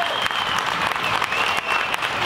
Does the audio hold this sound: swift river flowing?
no